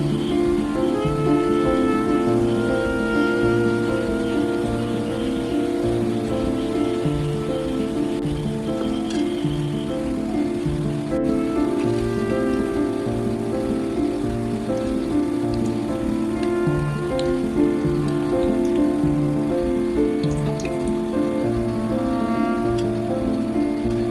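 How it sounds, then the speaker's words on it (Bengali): Stuffed okra frying crisp in hot oil gives a dense, even sizzle, like steady rain, that holds constant and close throughout with no talk. "আরও একটু ভেজে নেব, ভেজে নিয়ে উঠিয়ে নিয়ে নেব"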